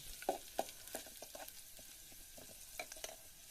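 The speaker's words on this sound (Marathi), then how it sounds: "तेलामध्ये लसूण आपण चांगला परतवून घेऊ म्हणजे फोडणी होते चांगली" Crushed garlic frying in hot oil for a tempering, giving faint, soft crackles and sizzling pops with a few sharper spatters at scattered moments, no voices.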